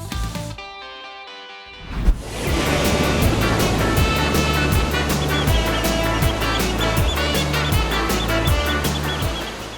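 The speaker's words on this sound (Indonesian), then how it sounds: "Hari ini Abdi sama Ulan lagi menikmati suasana pantai di daerah Sayang Heulang Garut nih" Surf washes in at Sayang Heulang beach in Garut at low tide. After about two seconds of near quiet, a loud, steady rushing wash starts and keeps going without a break.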